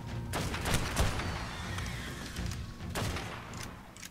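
Gunshots from Ark Survival Evolved: a quick burst of sharp cracks and thumps, followed by a few more shots spaced apart. They sound close and loud over a rumbling in-game background.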